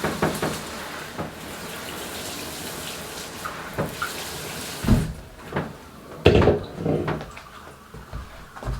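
Water runs from a shower over a houseplant being watered, a steady hiss broken by a few knocks and clunks as the pot is handled, loudest toward the end.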